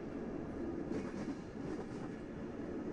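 Inside a moving Chinese passenger train bound for Beijing, a steady, muffled low rumble of wheels and carriage continues, quiet and even, with no talk.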